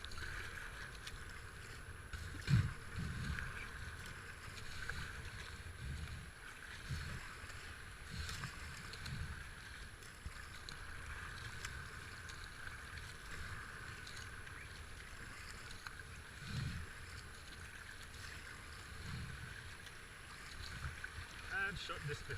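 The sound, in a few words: boat running river rapids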